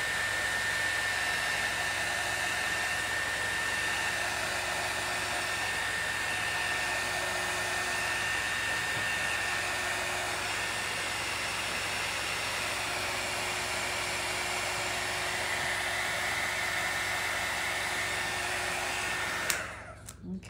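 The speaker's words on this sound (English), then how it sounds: "I should have had my dryer out and I should have dried in between" A hair dryer blows steadily on painted craft work, a loud, even whooshing roar that holds for about twenty seconds before switching off abruptly.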